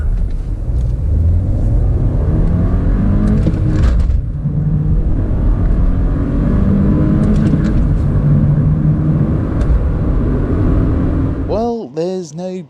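A manual MK8 VW Golf accelerates hard from 0 to 60 on a damp day, its engine giving a loud, steady rumble that builds without a break before cutting off near the end, where a brief voice is heard.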